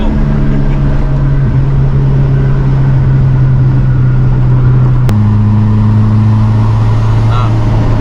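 Subaru GC8 Type R two-door cruising on the road, a steady loud engine drone with a low humming tone that shifts pitch midway as the car changes speed, with continuous road noise.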